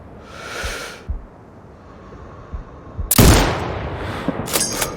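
A sniper rifle shot cracks loud and close in the game Sniper Ghost Warrior Contracts 2 in a desert setting, a single sharp burst that trails off, with fainter sounds before and after.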